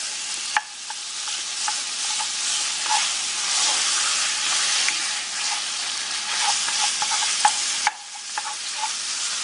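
Spring roll filling fries in a pan with sesame oil, a steady bright sizzle throughout, punctuated by soft clicks and scrapes of stirring, close and unaccompanied by talk.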